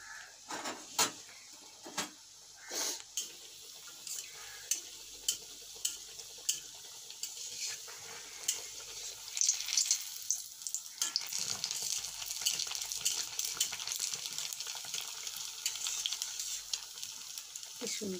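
Bhaja pithe, rice-flour fritters, frying in hot oil, with a steady sizzle that thickens and grows louder in the second half. Scattered clicks and knocks of utensils sound over it, and there is no talk.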